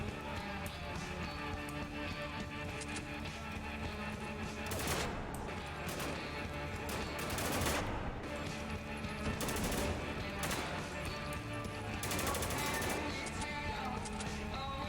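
Dense video-game gunfire from Spec Ops: The Line, with rapid automatic bursts and scattered single shots rattling continuously, some sharp loud cracks standing out over a constant battle din.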